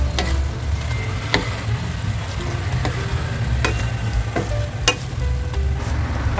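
Pechay and other vegetables stir-fry in a pan with a splash of soy sauce, giving a continuous close sizzle broken by regular clicks and scrapes of the spatula, with no voices.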